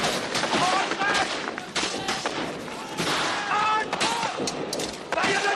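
Rifle volleys crack out in a 1987 French World War I film battle scene, loud repeated fusillades overlapping with shouted orders and voices throughout.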